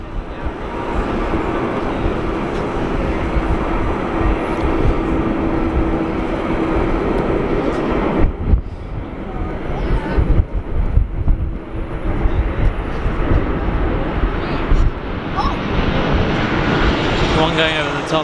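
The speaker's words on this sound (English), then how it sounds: "There's a Qantas taking off now." A Qantas airliner takes off at Sydney Airport on a windy day, its broad jet roar steady and loud throughout, with wind buffeting the microphone and a voice talking over it.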